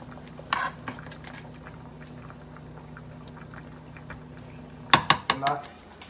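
Metal spoon scraping and clanking in a pot of lean beef spinach meatball pasta, two brief bursts of stirring at the start and near the end, close and fairly loud, over a low steady hum.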